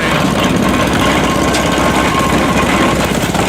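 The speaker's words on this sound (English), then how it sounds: "Now they have a tractor and the combine." A farm tractor and combine harvester engine drone steadily and loudly during a grain harvest, a continuous mechanical rumble with a faint whine, no voices.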